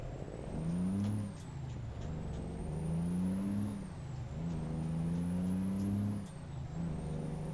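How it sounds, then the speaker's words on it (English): A truck at the entrance to the Dalton Highway strains as it pulls away, its engine droning with rising and falling tones in steady surges, loud and close, a high whine riding above the low rumble. "Apparently my truck does not like pulling out of here."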